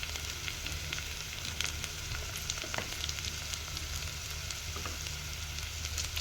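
Freshly grated coconut frying in oil for coconut rice, a steady, faint, continuous sizzle and crackle with an occasional light scrape, and no one talking.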